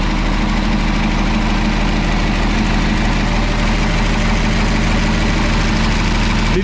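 A used machine at a fall equipment auction preview runs steadily at idle, its loud, low engine rumble close and constant with a slight vibration throughout, and no talk over it.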